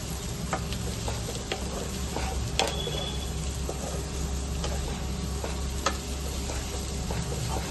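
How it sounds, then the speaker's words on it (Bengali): Fresh coriander leaves are stirred through frying onions in a pan, with a constant low sizzle under occasional light ticks and scrapes from the spoon, all close and even. "ভালো করে মিশিয়ে নিচ্ছি এখন ধনে পাতাটাকে।"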